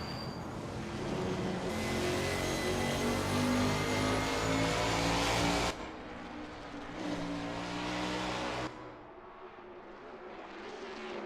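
A 1989 Camaro Z28 IMSA GTO race car engine in a racing video game at Watkins Glen roars continuously and loudly, its pitch shifting as it accelerates and downshifts, with several abrupt changes in intensity.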